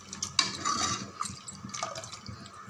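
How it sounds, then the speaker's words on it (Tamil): Dal water poured from a vessel into a pot of sambar, a short splashing pour with liquid trickling and a light clink of the pot, close and fairly quiet. "நம்ம எடுத்து வச்சுருக்க பருப்பு தண்ணியை அப்படியே சேர்த்துருங்க."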